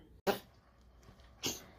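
A dog sneezes twice, two short sharp bursts about a second apart, close and fairly quiet, with a person speaking briefly between them.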